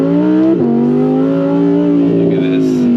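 A modified Audi R8 Performance engine revving on throttle, a loud steady drone that dips briefly then climbs in pitch and holds close by, with a voice speaking over it.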